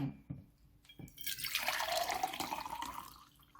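Hot boiled water pours into a cup, starting after a couple of faint clinks and building into a close, bright, steady splashing stream that tapers off toward the end, without speech.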